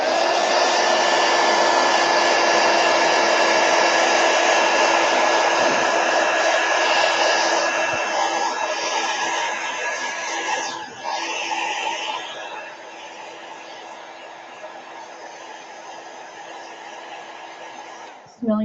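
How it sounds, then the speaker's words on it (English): A heat gun blows continuously to dry damp wax on embossed watercolor paper, a loud steady rushing whoosh that eases slightly in the second half before cutting off. "So heat gun."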